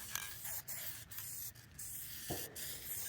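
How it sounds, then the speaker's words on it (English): Faint, short hissing bursts from an aerosol spray paint can with a partly clogged nozzle, several separate sprays in quiet surroundings. "I really should have bought a new bottle of, or a new can of spray here"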